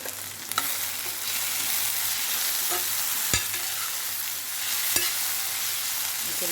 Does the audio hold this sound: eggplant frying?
yes